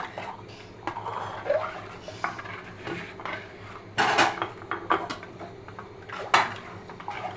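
A utensil scrapes and clinks against a bowl while a thin, milky pudding mixture is stirred, giving irregular close taps and knocks with a few louder strikes.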